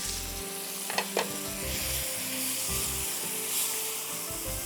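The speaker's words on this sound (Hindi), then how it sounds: "चिकन डाली हमने और इसको अच्छी तरह आपने पकाना है अदरक लहसुन के साथ" Chicken frying in a pan with onions, ginger, garlic, turmeric and curry leaves, a steady close sizzle with a couple of brief stirring scrapes early on, no talking over it.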